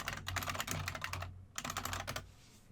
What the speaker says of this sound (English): And we're going to type in personal training.